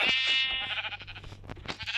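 Sheep bleat on a farm, opening with a loud, long bleat and then a flurry of shorter overlapping cries from the flock, close by.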